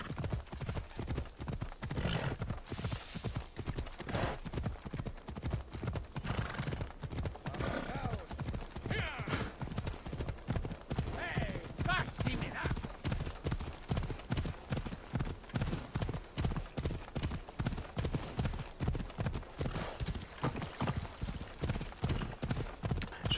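A horse trotting along a road in the video game Assassin's Creed Odyssey, steady rhythmic clip-clop of hooves throughout with occasional whinnies, and a voice talking faintly now and then.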